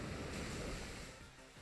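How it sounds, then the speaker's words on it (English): A Muddy Water attack in a Pokémon VGC battle strikes a Landorus as a loud, continuous rush of surging water and wave-like noise, steady for over a second and then easing slightly toward the end. "Muddy Water will connect with the Landorus."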